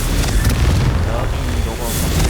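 The Confringo fire spell from Hogwarts Legacy blasting, heard as a loud, sustained roaring whoosh with a booming rumble that fills the whole stretch.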